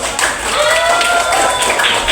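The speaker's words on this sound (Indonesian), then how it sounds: "Minta tepuk tangan dulu." Junior high students in a classroom at SMP Negeri 6 Satu Atap Sintang clap together in a brief, loud burst of applause, with some voices mixed in.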